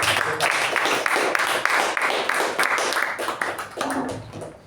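A small club meeting audience claps for their president, a close, brisk patter of hands that holds steady and then thins out near the end.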